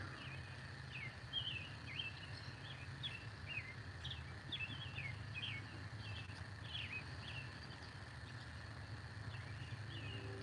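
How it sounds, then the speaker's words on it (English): Birds chirp and tweet in short repeated calls at sunrise, faint and somewhat distant over a low steady rumble from a far-off train, with no talk. "I hear the birds and the train."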